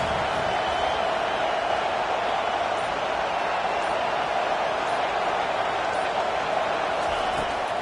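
Home crowd at a football game roaring steadily as the defense tries to get off the field on third down, a dense, continuous wall of cheering that holds level throughout.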